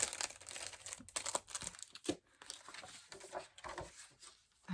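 A needle minder being unwrapped from its packaging, with close crinkling and rustling of wrapper material, a few sharper tearing crackles, and brief quiet pauses between bursts.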